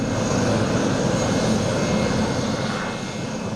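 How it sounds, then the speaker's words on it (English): A formation of IAR-330 combat helicopters, Puma-based, passes at Romania's BIAS 2019 airshow, giving a dense, loud, steady engine and rotor roar that fades slightly near the end. "a group of IAR-330 combat helicopters appeared"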